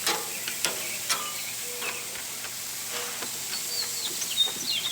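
Chicken for tequila lime tacos sears in a hot pan with a soft steady sizzle, broken by scattered faint clicks and taps of handling.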